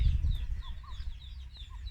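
Farm chickens give short, repeated clucks and chirps at close range over a low rumbling background, with no one speaking.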